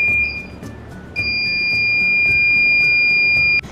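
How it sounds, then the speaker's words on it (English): A buzzer on a model car's project alarm sounds in shrill electronic tones, a short burst and then a long sustained beep lasting over two seconds, close and loud. "If someone comes to the car, the buzzer automatically like will blow."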